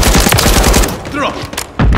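Kastov-762 assault rifle fire in Call of Duty MW3 Team Deathmatch on the Shoot House map, a loud rapid burst of shots with a short pause and more firing, with game voice callouts mixed in.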